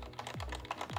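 Keys on a DaVinci Resolve Speed Editor control panel being pressed, giving a quick series of soft, tactile clicks close to the mic over a low steady hum.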